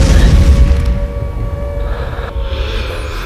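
A bomb explosion sounds as a heavy, rumbling boom that fades gradually over a few seconds, loud and deep, with no voices.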